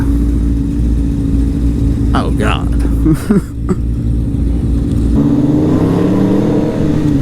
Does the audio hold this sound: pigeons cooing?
no